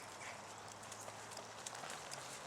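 Horse hooves beat in a canter during a riding lesson, a faint, rhythmic clip-clop of soft thuds under a steady hiss of ambient noise.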